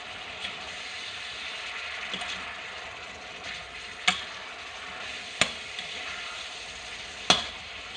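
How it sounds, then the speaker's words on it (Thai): Soaked glass noodles are stir-fried in a pan for a Thai basil stir-fry with pork and shrimp. A steady sizzle runs throughout, with three sharp spatula clacks against the pan and no talk. "ใส่วุ้นเส้น เราแช่น้ำเอาไว้ก่อนนะคะ ค่อยเอามาผัด"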